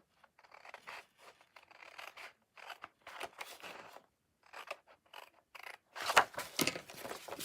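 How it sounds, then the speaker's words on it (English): Scissors snip through designer series paper in a run of short, crisp cuts close by, with irregular pauses between bursts and a louder flurry of snips near the end, with no talking. "I will snip these two flaps here."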